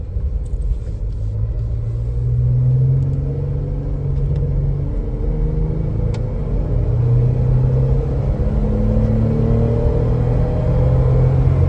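A car drives along with a steady, low road rumble and engine hum heard from inside, continuous and moderately loud with no talking.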